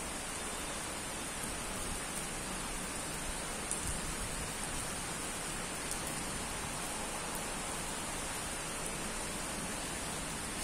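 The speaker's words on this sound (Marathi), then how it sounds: "इथे विजेच्या नाशकात विजेच्या कडकडाटसह पाऊस सुरू आहे इथं" Steady, dense rain pours during a thunderstorm in Pathardi, Nashik, a continuous close hiss with no distinct thunder claps standing out over the full stretch.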